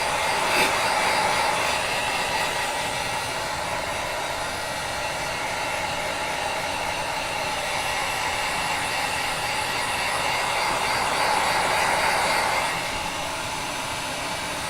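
A dryer blows steadily to dry a paste on a vintage spring-themed decor piece, a loud, continuous close-up airflow whoosh holding nearly unchanged for the whole stretch, with no voices.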